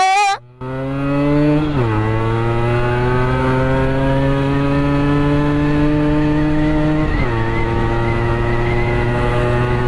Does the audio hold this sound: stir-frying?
no